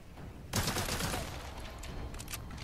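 A submachine gun fires in a Capcom video game trailer, a sudden loud sustained burst of rapid shots that kicks in after a quiet start and trails into scattered further shots.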